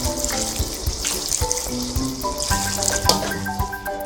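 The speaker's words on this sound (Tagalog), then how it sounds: "Ngayon po ay maglalagay lang po ako ng konting tubig." Water poured into a hot pan while cooking pansit bihon with sardines sets off a loud, continuous sizzle and hiss with clinking and bubbling, close and steady for several seconds.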